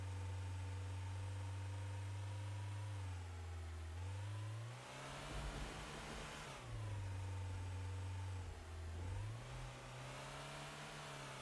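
A car engine in the video game Trader Life Simulator drones steadily and loudly, its pitch dipping and rising twice as the vehicle shifts and accelerates, with no voices.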